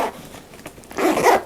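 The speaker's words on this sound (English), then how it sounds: "Double zipper." Zipper being pulled on a Takeya pickleball backpack, a close, fairly loud scratchy zip lasting about half a second after quieter handling rustle.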